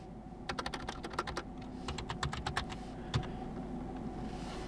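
Typing on a computer keyboard, a quick burst of close key clicks followed by a few scattered taps over a low steady background hum, no one speaking.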